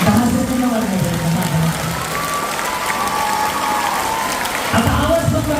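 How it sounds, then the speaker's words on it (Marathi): A village political gathering audience claps together, dense steady applause sustained for several seconds with crowd noise, fairly loud and continuous throughout. "दोन्ही हात वर करून 10 सेकंद जोरदार टाळ्या भाऊसाठी वाजवा"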